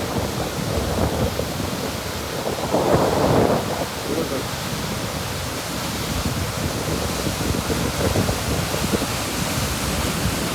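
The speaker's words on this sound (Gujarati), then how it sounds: "કેટલો ઉછળે ધોધ પડે છે." A waterfall plunging into a deep pool at a natural scenic spot, its broad, steady roar of splashing and falling water filling the whole scene, swelling briefly louder partway through.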